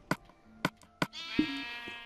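Sheep bleat in a blocky survival video game, a few sharp short bleats followed by a longer wavering one, close and clear with no talking over them.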